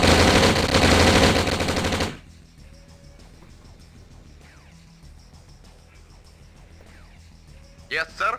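Machine guns strafe a turret in the real-time strategy game Command & Conquer Red Alert, a loud, dense burst of rapid fire lasting about two seconds, then quieter game clicks and a brief spoken unit reply.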